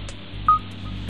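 Keypad tone from a Samsung Genio Slide (Corby Pro) phone as a service code is typed in, a single short, clear electronic beep heard close over quiet background hum.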